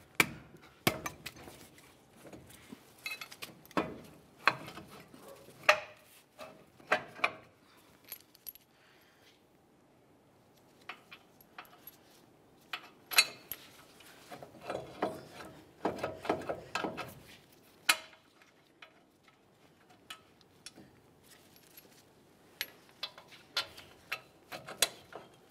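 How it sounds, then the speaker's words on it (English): Metallic clinks and ratcheting as 21 mm headed brake caliper mounting bolts are started into their holes on a 2005-2010 Dodge Dakota, in scattered, uneven bursts with quiet gaps between. "align our two mounting bolt holes, and start in each of those 21 millimeter headed bolts"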